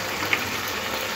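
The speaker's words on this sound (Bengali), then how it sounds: "এরপরে জল দিয়ে দেবো, সবজিটা আর ভাজবো না।" Water poured into a pan of ridge gourd and potato poppy-seed vegetable curry on the stove, a steady soft gushing hiss with a brief bright splash near the start, close and fairly quiet with no talking.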